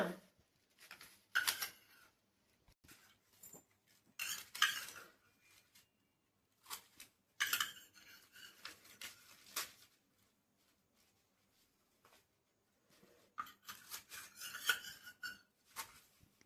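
Craft shapes being cut out with scissors: quiet, intermittent snipping and rubbing bursts in short irregular clusters separated by near-silence, close and faint, no talk.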